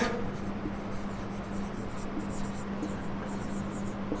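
Steady scratchy writing on a board during a physics lesson on cyclotrons and Lorentz force, a continuous close rubbing stroke lasting several seconds without a pause and with no talk over it.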